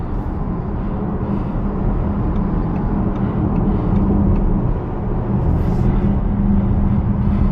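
An Audi SQ6 e-tron electric car accelerating, heard as a steady, loud, broadband road and motor rumble from inside the cabin that holds a constant level throughout.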